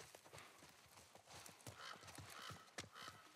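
Horse hooves clip-clop in The Last of Us video game, a steady, close series of hollow clops in an uneven walking rhythm with no talk over them.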